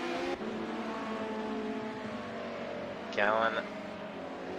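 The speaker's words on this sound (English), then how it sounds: "A lot of noise going down pit straight with those Ford Sierras screaming." Ford Sierra Group A touring cars rev hard down the pit straight at Silverstone International in a racing video game, a steady high-pitched engine drone with a brief sharper rise partway through, while a commentator talks over it.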